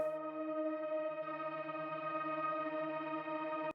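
A sustained, shimmering synthesized tone with stacked harmonics and chorus-like wobble holds steady, then cuts off abruptly at the end.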